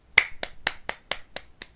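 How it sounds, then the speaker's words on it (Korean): One person claps their hands at close range, about seven sharp, dry claps in quick, slightly uneven succession, alone in a quiet room. "박수 한번 치고 갈게요."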